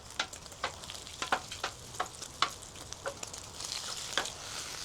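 Breakfast meat renders low and slow in a pan, with quiet crackles and small pops spaced irregularly over a faint, steady sizzle, close by.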